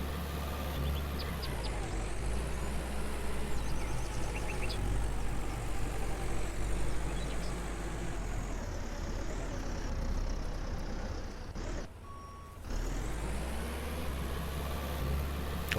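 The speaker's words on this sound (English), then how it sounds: "I have kind of fallen in love with this tractor more than the others." A tractor engine in the farming game Farmer's Dynasty drones steadily at a low rumble, dipping briefly partway through before resuming.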